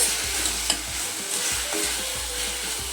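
Potatoes and tempering sizzle steadily in a pan while being stirred for sagu, with repeated scraping strokes over a constant frying hiss and no voices.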